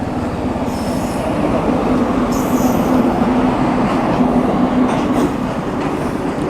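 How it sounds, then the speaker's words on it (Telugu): A goods train rolls past nearby, a steady loud rumble of wagons with wheel squeal and a faint rhythmic clatter running the whole time, heard alone without speech. "గూడ్స్ ట్రైన్ అయితే వెళ్తుంది"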